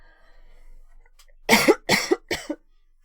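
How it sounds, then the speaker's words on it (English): Three sharp, close coughs come in quick succession after a near-silent stretch, each a short harsh burst from a person at a computer. "Sorry for me coughing."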